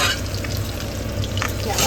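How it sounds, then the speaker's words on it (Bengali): Fish frying in ghee or fish oil, a steady close sizzle and crackle of hot fat running throughout without a break. "ঘি দিয়ে, বা মাছের তেল দিয়ে ফেলে মাছের তেল দিয়ে এগুলো মাছ ভাজা হচ্ছে"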